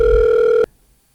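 A telephone in a home gives one steady electronic tone for just over half a second, close and loud, then cuts off sharply into near silence.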